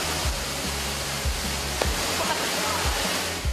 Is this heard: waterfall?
yes